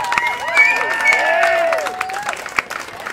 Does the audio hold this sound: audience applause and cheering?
yes